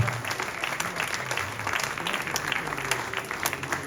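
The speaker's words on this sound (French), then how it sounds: "Alors oui, on peut à nouveau les applaudir" Applause at an inauguration ceremony, a steady crowd of clapping hands rolling evenly through the moment at moderate volume, with a low murmur underneath.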